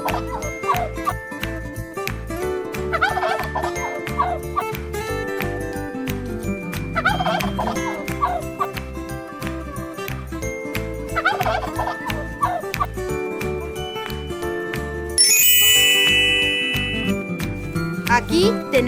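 A turkey gobbles repeatedly over a steady, rhythmic children's music backing, with bursts of gobbling at intervals and a brief jingle near the end; no one speaks.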